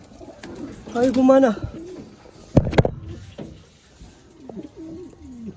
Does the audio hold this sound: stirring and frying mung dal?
no